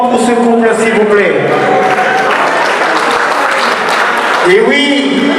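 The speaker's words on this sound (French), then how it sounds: "Applaudissez une fois encore pour ce couple, s'il vous plaît." Audience applause for a couple at a ceremony, a full crowd clapping steadily for several seconds, with a voice heard briefly at the start and again at the end over the clapping.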